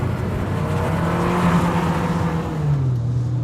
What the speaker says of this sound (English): this engine just pulls and pulls and pulls and pulls